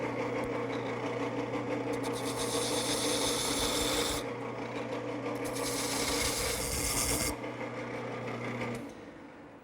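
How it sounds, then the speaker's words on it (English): A skew chisel cuts shallow V grooves into a spinning wooden table pedestal on a lathe, giving a steady close scraping hiss over the machine's hum, with two brighter surges of cutting before the tool lifts off. "to make those I'm using a skew chisel"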